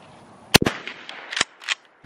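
A shotgun fires at clay pigeons during outdoor skeet shooting, with a sharp shot and a quick second crack, then a few fainter pops and impacts.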